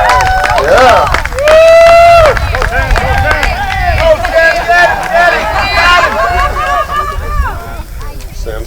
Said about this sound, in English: Let's hear it for him, guys. Cheer for him.